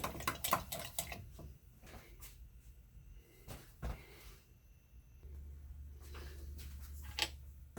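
Homemade spiced vinegar ingredients with sugar being mixed by hand, giving scattered close clinks and knocks of a utensil against a container, with quiet pauses between and a low steady rumble near the end.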